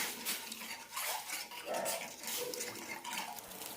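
A spoon clinks and scrapes inside a pot while stirring a mixture of water, salt and coconut oil for ragi flour dough, quiet and close, with irregular metallic taps.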